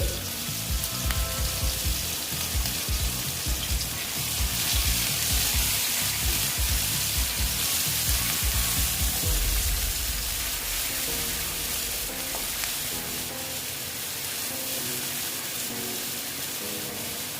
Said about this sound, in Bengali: দেখো পেঁয়াজটা আমি ভেজে নিচ্ছি